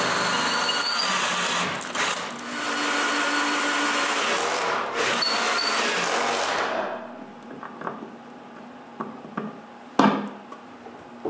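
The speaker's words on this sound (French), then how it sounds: "Avec la scie couchée, là, je peux percer les 2 autres trous." Drilling holes through the wooden frame of a homemade bandsaw laid on its side produces a loud continuous whir for several seconds, then it stops, leaving faint knocks and handling noises.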